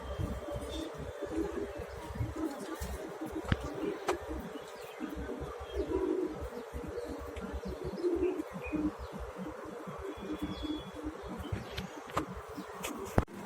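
Domestic pigeons feeding in a loft with their chicks, cooing in a steady low murmur, mixed with faint chirps, rustling and occasional sharp knocks nearby.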